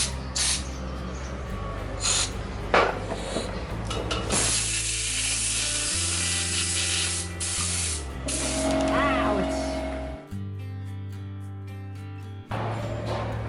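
Carburetor cleaner sprayed from an aerosol can onto small engine parts during a motorbike engine rebuild, several hissing bursts of varying length close by, with mechanical clicks and someone talking in between.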